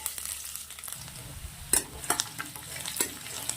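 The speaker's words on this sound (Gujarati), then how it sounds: "લસણ ને આદું આપણે તેલના અંદર 2 મિનિટ સોતે કરી લઈશું" Finely chopped ginger and garlic sizzling in hot oil, with a steady frying hiss and a few sharp spatula scrapes and stirs against the pan, close and moderately loud with no talking.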